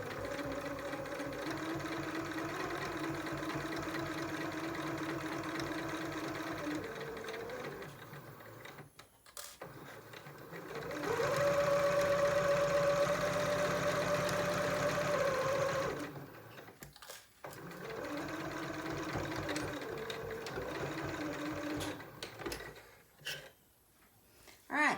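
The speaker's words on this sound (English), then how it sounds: "I always sew a few stitches, back stitch, so that the thread is secured." A sewing machine stitches a fabric face mask seam with a few back stitches, running in steady motor bursts with brief pauses between them, loud and close with no talk.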